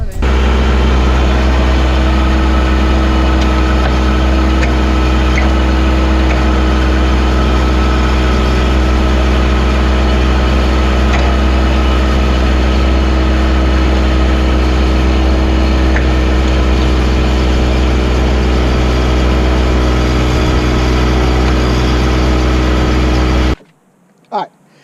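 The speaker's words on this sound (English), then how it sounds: "So I'm gonna put the auger back in these holes and take out about a good foot." Power auger digging planting holes for crepe myrtles during a landscape installation, its engine a loud, steady, low droning hum running unbroken for over twenty seconds before cutting off abruptly.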